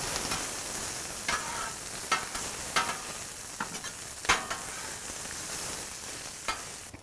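Chili and meat cook on a griddle for a Texas-style cheesesteak, giving a steady, close sizzle broken by scattered scraping clicks of a spatula.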